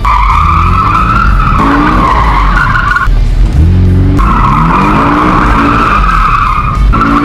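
A car spins in place on open ground, its tires skidding and squealing loudly in long, wavering screeches that break off and restart several times over a rumbling engine.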